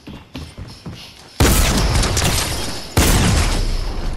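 Shotgun blasts in the video game Fortnite, two loud booming shots about a second and a half apart, each ringing out over busy game noise after a stretch of quieter clatter.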